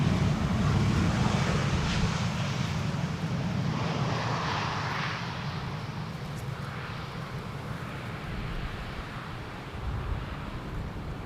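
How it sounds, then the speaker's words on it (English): A Qatar Airways Boeing 777 arriving from Doha at Amsterdam Schiphol in gusty crosswind conditions, heard as a broad, steady jet roar with low rumble and wind buffeting the microphone, slowly easing off over the span. "we can nicely transition to the Qatar 777 arriving from Doha."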